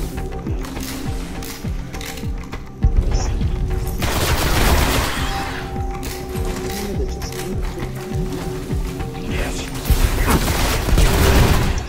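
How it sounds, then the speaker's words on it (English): Sustained video game gunfire and explosions in Destiny roar loudly throughout, with rapid bursts, mechanical clatter and heavier blasts layered together in a dense, continuous battle mix. "Look at that explosion."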